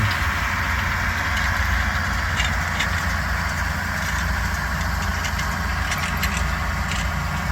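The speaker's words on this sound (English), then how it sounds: "Making that noise. Must be that idler wheel there in the ground." Corn planter running in a field with a loose idler wheel in the ground, giving a steady low engine-like rumble and drone throughout with faint rattling on top, no talk.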